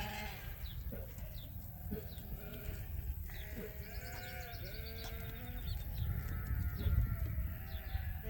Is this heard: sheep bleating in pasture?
yes